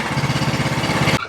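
The small engine of a John Deere LA105 riding mower idles low and lumpy close by, pulsing unevenly for about a second before cutting off.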